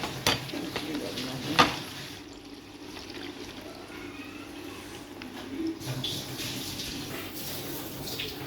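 Ice water drains from a bowl of soaked sliced onions in a home kitchen, a soft steady trickle and pour with occasional clinks and splashes, fairly close and without talk.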